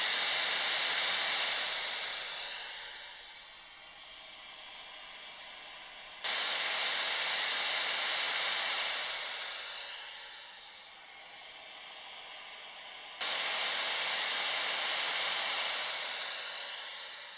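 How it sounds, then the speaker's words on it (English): Broadband white noise played around professional indoor boom microphones gives a bright, even hiss in three long passes, each starting loud and fading as it moves off before jumping back. "let's go ahead and run some white noise around each of these microphones just to see what happens"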